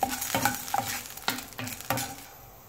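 A spoon stirs washed beans and lentils dry roasting in a hot pan, making five or six scraping strokes with a soft sizzle between them, close and clear, before the sound eases off at the end with no voices.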